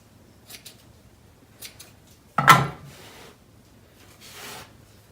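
Scissors snip through craft material during a Christmas DIY decor project, a single quick, fairly close cut standing out after a few faint handling sounds, with softer rustling afterward.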